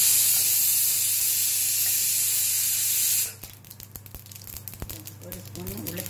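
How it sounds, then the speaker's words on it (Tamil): Mustard seeds in hot oil in a pan while cooking tiffin sambar: a loud, steady sizzling hiss that cuts off abruptly, followed by scattered sharp pops and crackles of the seeds spluttering. "வாணல் வச்சிருக்கேன், அதில் இதோ கடுகு கொஞ்சம் போட்டுட்டேன்"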